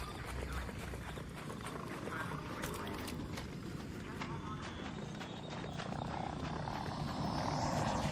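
A helicopter hovers in a permadeath survival video game, its rotor a steady, moderately distant drone across the whole stretch, with soft background game noise and faint voices mixed in.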